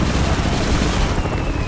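Sustained gunfire from shooting enemies in the first-person shooter Bulletstorm, a dense, continuous barrage of loud blasts with no clear gaps between them.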